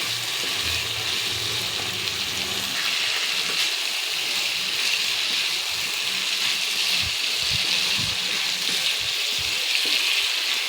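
Bhy (lotus stem) fries and roasts in a spice masala, with a loud, continuous sizzle and occasional stirring scrapes, close and steady throughout.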